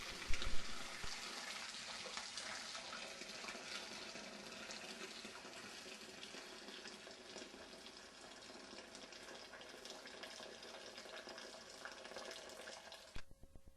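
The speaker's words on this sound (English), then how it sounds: "Strain the juice from the pea pods into the brewing bucket through a sieve." Pea pod juice is strained through a sieve into a brewing bucket for homemade wine, making a steady, close pouring and trickling wash that runs unbroken for more than ten seconds before ending abruptly, with no talk.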